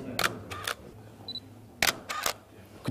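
A camera shutter fires in silent mode with soft, muffled clicks, in a couple of quick pairs and then a short burst. It is close but quiet against faint room hiss.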